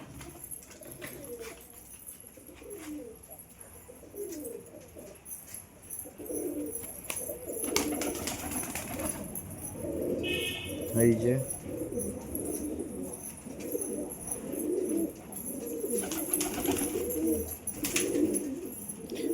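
Restless pigeons in a home loft give repeated soft, rolling coos close by, a steady rhythmic chorus that thickens toward the end, with a brief spoken phrase and occasional clatter.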